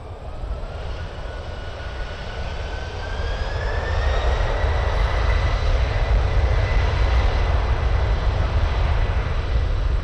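An Air Canada airliner takes off from runway 23 at Toronto Pearson, a loud, steady engine roar that swells after a few seconds and holds with a rising whine, continuous and close.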